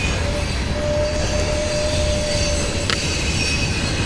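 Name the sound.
train with screeching wheels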